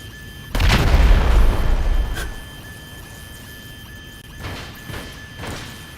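Grenades blow up in GTA 5 Online, one heavy, close boom with a rumbling tail followed by a few softer, distant thumps.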